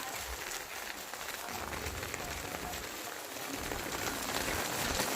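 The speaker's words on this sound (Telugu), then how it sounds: "చూస్తున్నారు కదా వర్షం ఎలా పడుతుంది అనేది." Steady rain falls in Hyderabad with a dense, continuous hiss of drops on surfaces. It stays fairly loud and even throughout, with no voices over it.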